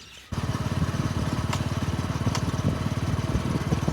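A motorcycle engine runs steadily after a brief quiet start, its rapid even putter close and continuous, with a couple of faint clicks above it.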